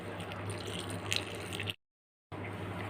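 Water splashes and trickles into a bowl of wheat flour dosa batter mixed with carrot, curry leaves, drumstick leaves and ajwain, a close liquid pour that stops abruptly partway through.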